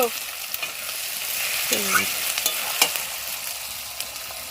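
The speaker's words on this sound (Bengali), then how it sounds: "দেখো বন্ধুরা পেঁয়াজটা ভাজা হয়ে গেছে" Onions fry in plenty of oil in a kadai, a steady soft sizzle with occasional scraping taps of a stirring spoon and a faint voice in the background.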